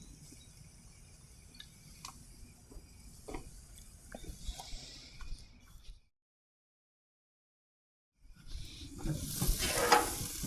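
Squash sizzling on a grill, a soft continuous hiss with light crackles and ticks that cuts out for a couple of seconds, then returns louder and brighter. No one speaks.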